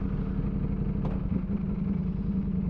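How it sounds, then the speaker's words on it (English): Ducati Panigale V4 motorcycle fitted with a Spark exhaust, ridden in traffic, its engine a steady, loud low rumble with constant throb and no pauses, continuous throughout. "Let's hop on the bike and let's see how she sounds in traffic."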